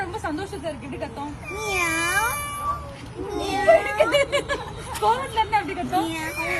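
A person mimics an angry cat with wavering, drawn-out yowls, close and fairly loud, over background chatter and babble from other people.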